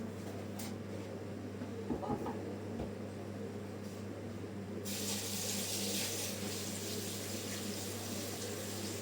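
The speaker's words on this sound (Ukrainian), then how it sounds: "Теперь воду заливаем" Water pours from a tap into a container for a homemade tomato starter culture, beginning as a steady hiss partway through and continuing evenly, with a low mains hum underneath and a few brief handling clunks earlier.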